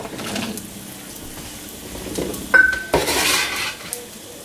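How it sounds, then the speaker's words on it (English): A spoon stirs simmering mushroom broth in a pot for a broken spaghetti and shrimp risotto, making soft scraping with a couple of sharp clinks against the pot midway; no one talks. "And stir it occasionally."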